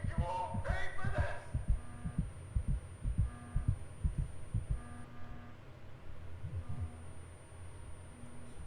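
A heartbeat effect from the video game Go Home Annie thumps in a steady, low, muffled rhythm, fairly quiet beneath a faint hum.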